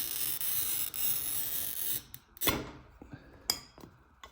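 A stained glass cutter scores cathedral glass with a steady, close gritty hiss, then stops. Sharp clicks and a crisp crack follow as the scored glass is snapped apart.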